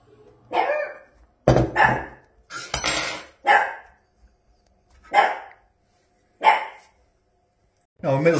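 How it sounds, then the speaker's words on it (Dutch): A dog barks in loud, close bursts, about eight sharp barks spaced irregularly with short pauses, in a home kitchen while chicken with mushrooms and cream is prepared for the oven. "inmiddels is de hond weer tot bedaren gekomen"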